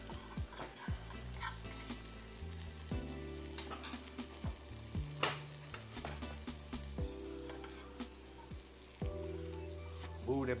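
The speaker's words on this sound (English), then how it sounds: "move that butter around." Butter sizzles in a frying pan while breakfast of bacon, sausage and pancakes is cooked, a steady frying hiss broken by scraping and clinking as it is pushed around, with some water running nearby.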